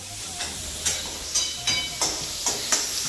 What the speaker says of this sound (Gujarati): મારી દીધો છે વઘાર